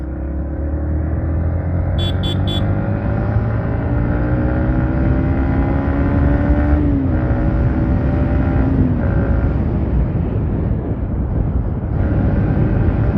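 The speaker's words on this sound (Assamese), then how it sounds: "চাওক কি মজা কৈছোঁ ন বাইকখন চলাবলৈ" A Yamaha MT-15 motorcycle is ridden along, its engine droning steadily up close with a few gentle rises and falls in pitch as the revs change, heard continuously with no talking.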